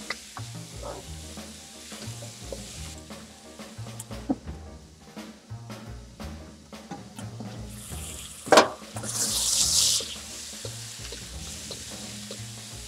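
Squid sautéing in a pan for Filipino squid adobo, a steady low sizzle with scraping stirs throughout, a sharp clatter midway followed by a louder hiss burst, no talking.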